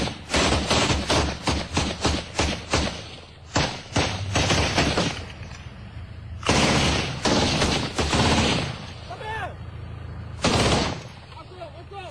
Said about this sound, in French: un coup de feu est tiré dans leur direction